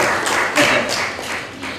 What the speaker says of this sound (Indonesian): mari kita beri tepuk tangan yang beliau untuk Pak Dede